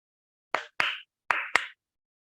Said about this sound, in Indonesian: Judulnya permainannya tepuk nyamuk